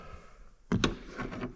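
Old metal door handle on a weathered Peterbilt 359 truck being worked, two sharp clacks followed by softer rattling movement, close and clear.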